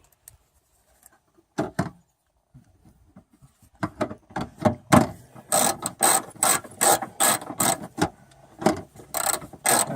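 Rapid ratchet clicks come in bursts while rear spoiler bolts are tightened on a car, starting with a few isolated clicks and building into steady, close, loud ratcheting strokes with no talk.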